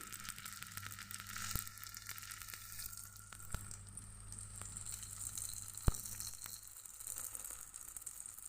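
Spring roll pastry sizzles in a pan of hot ghee, a steady, fairly quiet crackle of frying broken by a few sharp pops and soft clicks of the pan.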